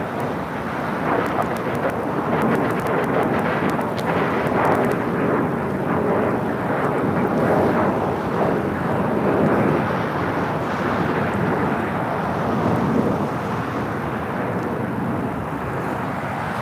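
A C-32 aircraft on short final approach to runway 24 left at LAX: a broad, steady roar of jet engines rumbles throughout, sustained and fairly strong, with no talking.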